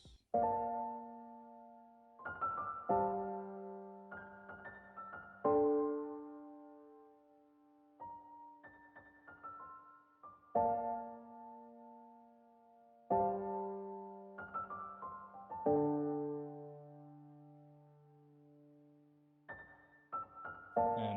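Piano chords played in a slow, spaced pattern, sustained notes ringing between hits, with a few short gaps of quiet; no talking.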